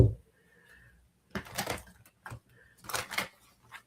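Tarot cards are shuffled in short crisp bursts of riffling and flapping, two main rustling passes separated by quiet pauses, close and fairly faint, with no talk over them.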